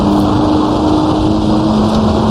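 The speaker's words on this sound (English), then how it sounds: "Just wait for fourth, shifting well into the red line, really maxing out the engine on the Porsche here." A Porsche engine in Assetto Corsa, racing at the Gnoo Blas circuit, holds a loud, steady high-rev drone near redline, continuous and close with no break in pitch.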